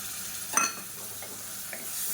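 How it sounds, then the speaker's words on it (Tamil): Masala and chicken masala sizzle softly as they are stirred in a pan over a medium flame, with one brief scrape of the spoon against the pan under a constant frying hiss. No one speaks. "இது எல்லாத்தையுமே நல்லா வதக்கிக்கலாம்."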